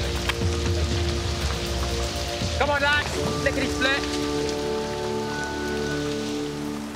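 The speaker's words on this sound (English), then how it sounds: "it's pouring with rain" Heavy rain pours steadily under trees on a wild island, a dense hiss filling the whole clip while men call out briefly over it and a low hum runs beneath.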